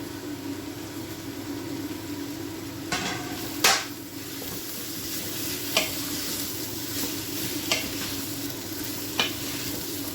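Finely cubed sweet potatoes fry in a pan for a quick curry, a steady loud sizzle broken by a few sharp clanks and scrapes as they are stirred.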